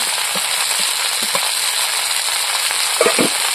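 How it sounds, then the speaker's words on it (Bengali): Spices and turmeric frying in a pan for a fish curry with katla fish and yam, a continuous bright hiss of sizzling oil with a few soft scraping stirs and small pops, steady and close. "এবার একসঙ্গে ভালো করে কষিয়ে নেব।"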